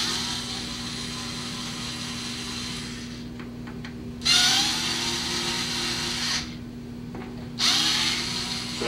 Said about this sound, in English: So what I'm going to do is start evenly unscrewing these screws.